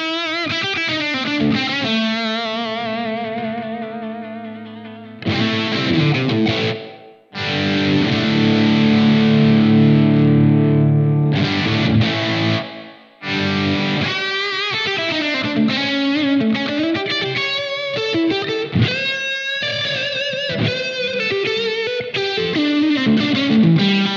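Electric guitar played through a Blackstar AMPED 1 amp with a room-style reverb and heavy distortion, sustained chords and single-note lines ringing out loud and close with no talking.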